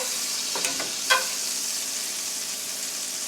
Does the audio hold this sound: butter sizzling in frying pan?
yes